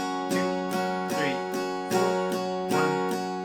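Acoustic guitar strums the bridge chords of a song, starting on G, in slow, even downstrokes roughly every half second, with ringing sustained chords, close and clear with no voice.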